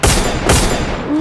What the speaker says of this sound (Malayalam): വെടി വെക്കുമ്പോൾ